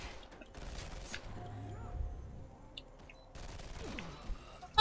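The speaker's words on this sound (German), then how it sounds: "wie oft soll ich dir noch in den Kopf schießen?" Gunfire in the shooter game F.E.A.R. 3, scattered bursts and shots of moderate loudness that come and go through the clip, mixed with other game sounds and no clear speech.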